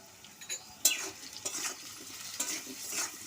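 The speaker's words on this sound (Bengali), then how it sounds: "দিয়ে ভালো করে নাড়াচাড়া করে লাল লাল করে আলুটা ভেজে নেব" Potatoes fry in a pan with salt and turmeric while being stirred, a light sizzle broken by a sharp spatula scrape near the start and several further scraping strokes, close and clear.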